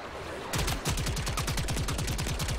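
Gunfire shooting mines in the video game Warframe, a steady fast stream of rapid-fire shots that starts abruptly after half a second and continues evenly to the end, close and prominent.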